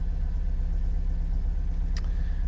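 An MG BGT engine idling just after starting, with a steady low rumble and an even, throbbing rhythm close by, plus one brief click near the end.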